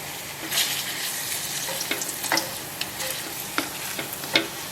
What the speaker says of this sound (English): This is usually when I determine that the garlic is well enough cooked and it's flavoring the oil well.